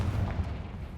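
Confringo fire spell blast in a Harry Potter video game, a heavy booming explosion with a deep rumbling tail lasting about a second.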